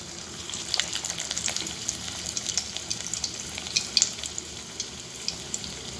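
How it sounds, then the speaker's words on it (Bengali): Drumstick flower fritters fry one by one in hot white oil in a kadai, producing a faint, even bubbling sizzle with light crackles throughout. "এখন আমি এক এক করে বড়াগুলোকে ভেজে নেব।"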